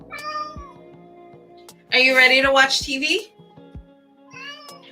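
A cat lets out a drawn-out, wavering meow midway through, clear and fairly close, while a person talks before and after it.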